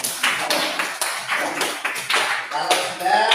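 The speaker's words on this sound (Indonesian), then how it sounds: "beri tepuk tangan dulu untuk kelompok Mawar" A classroom of students gives a short, uneven round of applause for a student group, with sharp clustered claps and a voice speaking in between.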